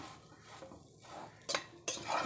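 Okra fries in groundnut oil as a spoon stirs and scrapes the pan, soft sizzling under a few sharp metallic scrapes and clanks, close and quiet without speech.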